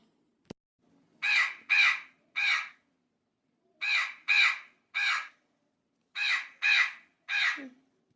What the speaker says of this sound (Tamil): காக்கா பூரா வந்துருச்சு பாரு